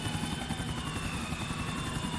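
EC145 police helicopter in a video game, steady rapid rotor chop and turbine whine heard close and loud without a break.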